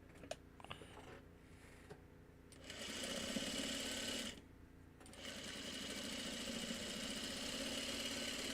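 A sewing machine stitches a quilt block for a Farmer's Wife Shooting Star pattern, humming in two steady runs separated by a brief pause, after quieter clicks and fabric handling.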